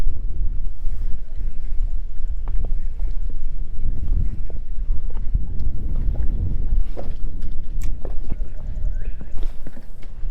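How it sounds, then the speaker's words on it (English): Strong wind buffets the microphone on a small fishing boat on the Chesapeake Bay inshore, a continuous loud low rumble with gusty swells and faint knocks of gear and water. "This wind is terrible."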